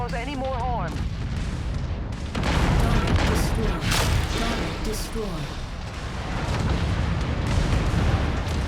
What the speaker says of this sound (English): That mech is about to go critical.